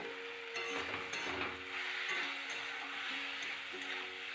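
Prawns sautéing with spices in a pan alongside okra, a steady sizzle with intermittent scraping stir strokes, moderately close and fairly quiet, no talking.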